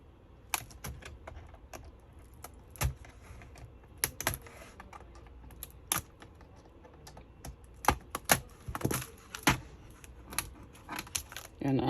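Clicks, snaps and plastic rattles from prying the keyboard out of a Dell Inspiron 3226 laptop during a CPU fan repair, sharp irregular taps close to the mic with scattered bursts and quiet gaps between.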